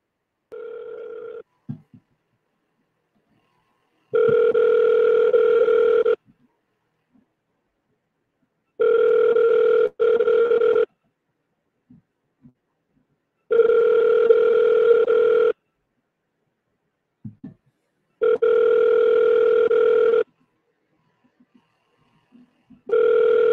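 A phone line rings out while calling a property seller: five steady, evenly spaced electronic ringback tones, each about two seconds long, separated by silent gaps, with no voices.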